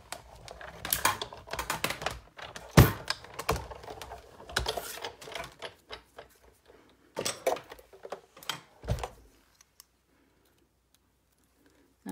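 A die-cutting machine crank-rolling a precision base plate and delicate ornament dies through paper, giving a close, uneven run of clicking and ticking mechanical sounds in bursts before stopping into near silence.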